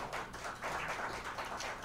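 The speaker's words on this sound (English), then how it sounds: "give these guys another round of applause" Audience applauding the performers at a small live music gathering, a steady wash of many hands clapping close by for the whole stretch with no voices over it.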